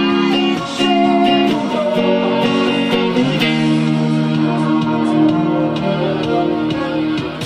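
An electric guitar plays the chord break from a song. Ringing chords are strummed several times in quick succession and then left to sustain, loud and close, with no talking.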